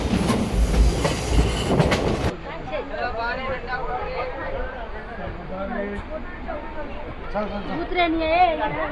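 The Palnadu Superfast Express, an ICF-coach train, pulls into Secunderabad station with rumbling wheels, rhythmic clatter and squeals over the rails, while people chatter loudly on the platform.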